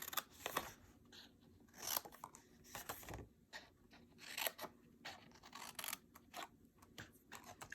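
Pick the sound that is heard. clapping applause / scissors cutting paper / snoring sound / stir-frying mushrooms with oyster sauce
scissors cutting paper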